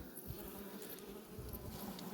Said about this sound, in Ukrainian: Бачите, бджоли носять пилок.